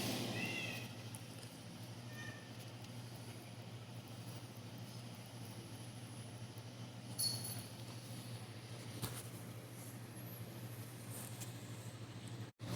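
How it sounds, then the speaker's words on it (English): A cat meows faintly and intermittently in a workshop during gun repair work, small distant cries over a constant low electrical hum, ending with a sharp knock. "the cat wouldn't stop meowing"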